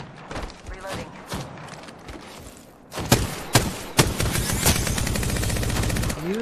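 Gunfire in the Apex Legends battle royale game while under attack, with sharp single shots building into a loud, rapid automatic burst, and game voice lines over it.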